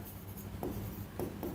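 Chalk or marker strokes on a board during an economics lecture, quiet scratchy scribbles with a few short sharper taps, faint and close.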